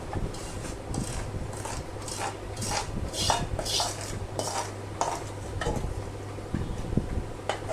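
Cooked sudharas, a traditional sweet syrup dish, being transferred into a serving pot, heard as a steady run of close metal clinks and scraping from a spoon against the vessels, with a low steady hum underneath.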